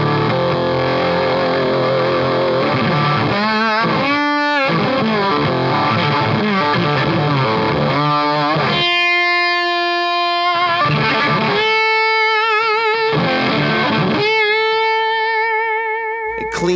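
An electric guitar played through a Reeves Electro Black Hat fuzz pedal rings out in fuzzy, distorted chords and sustained notes, with pauses between phrases and loud, saturated tone.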